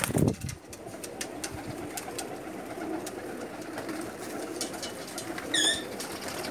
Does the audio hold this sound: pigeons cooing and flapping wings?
yes